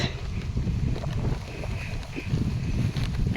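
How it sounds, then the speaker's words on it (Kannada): Steady wind rushing and buffeting close to the microphone, a continuous low roar with gusty swells and no voices. "ಎಷ್ಟು ಮಸ್ತ್ ಗಾಳಿ ಅದ"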